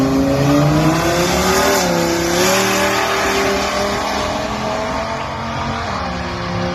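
A loud drag race car engine roars and climbs through gears at Hot Rod Drag Week 2025, rising in pitch as it accelerates hard down the strip, with crowd-level background noise.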